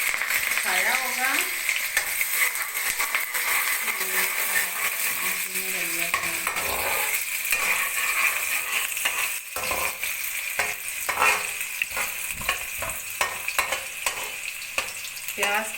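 Onions sauté in a pan for Punjabi daliya with a steady, close sizzle and frying crackle, while a utensil stirs and scrapes through the food now and then.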